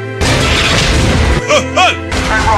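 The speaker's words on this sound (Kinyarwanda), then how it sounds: "dore ibisasu" A loud, roaring explosion in an action film rumbles on with heavy blasts and swelling tones, briefly dropping before another burst of booming noise.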